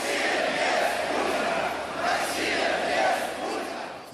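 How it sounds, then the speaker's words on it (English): A large street protest crowd in Russia chants in unison on a winter day, a dense roaring mass of voices rising and falling in rhythmic waves. "Russia without Putin, they chanted"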